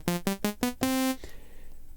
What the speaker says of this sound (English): Next is the saw wave that has much more harmonics.